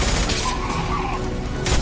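Rapid suppressing gunfire in the Mass Effect game, a dense continuous fusillade of rattling shots and booms that fills the whole stretch with steady loudness.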